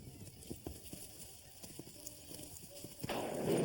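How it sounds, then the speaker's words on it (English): Horses are being led toward a creek for water, their hooves clip-clopping in a steady irregular walk, fairly close but faint, with a louder rush of noise at the end. "Ethan, take these horses down to the creek and give them water."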